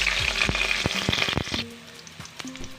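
Whole spices dropped into hot oil in a pan, a bright crackling sizzle with several sharp clinks and taps for the first second and a half, then a quieter, fading fry with a few soft knocks.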